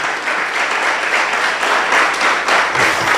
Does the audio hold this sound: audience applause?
yes